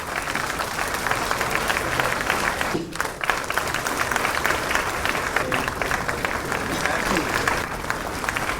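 Sustained applause from a large crowd at a government ceremony handing out appointment letters to selected candidates, a dense steady wash of clapping with a brief dip near the middle, while a voice speaks over it.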